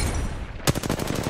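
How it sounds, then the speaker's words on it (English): Rapid gunfire in the Apex Legends video game breaks in abruptly after a brief lull, a fast run of sharp, close shots with almost no talk. "Don't tell me you're shooting at somebody."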